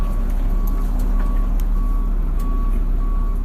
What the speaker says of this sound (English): Obviously I can hear the engine, more than aware that it's there